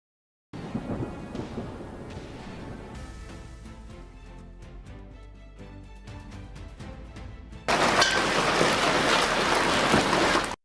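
Thunder from lightning striking a building near mountains in a storm: rolling rumbles and crackling booms, then a sudden loud broadband roar like heavy rain or a close strike near the end.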